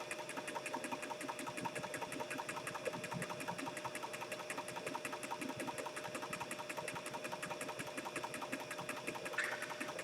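A Cobra Class 26 sewing machine winds a bobbin with a fast, even mechanical whir and rapid ticking rhythm, steady and moderately quiet throughout with no voices.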